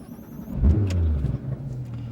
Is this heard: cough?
no